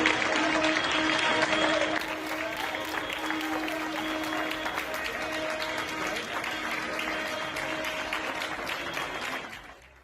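Party supporters at a political event in Spain applaud in a continuous crowd clapping, louder at first, then steady beneath murmuring voices before fading out at the end.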